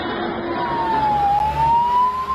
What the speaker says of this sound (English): And in the distance, the sound of sirens.